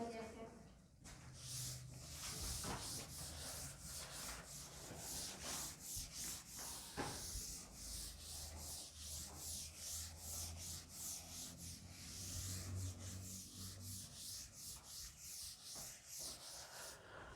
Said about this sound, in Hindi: तो करके दिखाएंगे, इसको रब कर दूं मैं।